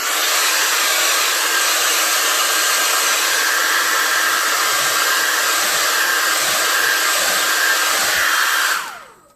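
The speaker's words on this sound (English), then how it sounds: "super fast hair dryer" A hair dryer blows loudly and steadily for several seconds, then is switched off and winds down at the end.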